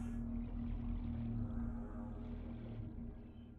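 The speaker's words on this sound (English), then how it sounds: "I hear the sea whale thing." A low, droning whale-like call from a large sea creature in the underwater survival game Subnautica, a steady resonant hum under a murky ambient wash, sustained for several seconds before fading.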